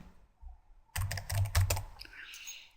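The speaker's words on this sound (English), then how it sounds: "So type in Travel Agency." A project name typed on a computer keyboard: a quick run of crisp, close key clicks after a brief quiet pause, fading into lighter taps.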